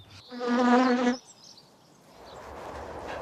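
Bees and other pollinating insects buzzing around wildflowers in a garden meadow: one close, loud buzzing pass lasting about a second, then a quieter outdoor background.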